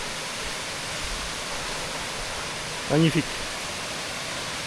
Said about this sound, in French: Nous sommes à la cascade Bras Rouge.